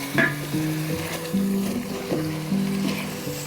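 Curry sauce hitting a hot Instant Pot and being stirred in, a close steady sizzle with repeated scraping strokes of the spoon against the pot base.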